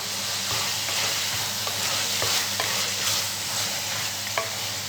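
Mutton sizzles steadily in a hot pan, with a close, even hiss and occasional soft scrapes of stirring.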